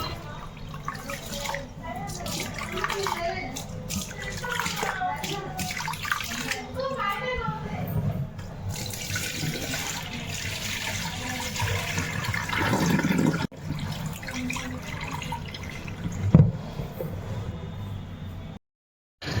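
Three cups of rice being washed by hand in water for dosa batter, with steady sloshing and swishing throughout and a few sharper splashes, close by and moderately loud, with faint voices in the background.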